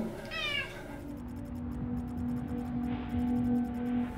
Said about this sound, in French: Deux chats chiants